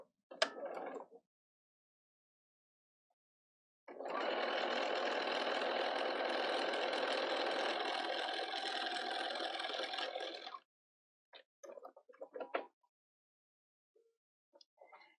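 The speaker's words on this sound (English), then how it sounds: "I'm going to line this up again right with the edge of the fabric. And we'll sew right down here." A sewing machine stitching a fabric market bag: a brief burst, a pause, then a steady mechanical whir running about six seconds before stopping, followed by scattered handling clicks and fabric rustles, close and without talking.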